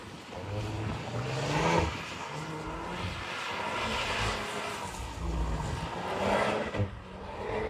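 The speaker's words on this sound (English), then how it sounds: "So yes, the Audi S3 can drift." A 2025 Audi S3 quattro with an Akrapovic exhaust drifts on a skid pan, its engine surging and easing in repeated waves with tyre noise, heard from a moderate distance and without speech.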